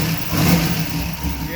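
A 1964 Dodge Dart race car engine revs up quickly in a short, moderately loud burst, then drops back.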